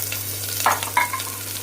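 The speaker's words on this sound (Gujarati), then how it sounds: "રાઈ ચકડી જાય એના ભેગા ભેગું જીરું હિંગ સાથે આપણે નાખશું મરચાં" Mustard seeds, cumin, hing and chilies sizzle in hot oil in a close, steady crackle with a few brief pops and a scrape of stirring, no talk.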